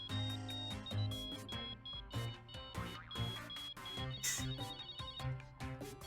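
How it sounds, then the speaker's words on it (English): A phone ringtone plays in the Murder By Numbers video game, a bright, rhythmic electronic melody of repeating chimes and beeps, fairly quiet and unaccompanied by talk. "It's a fun little ringtone."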